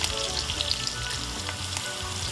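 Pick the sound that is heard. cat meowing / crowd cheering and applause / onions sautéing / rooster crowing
onions sautéing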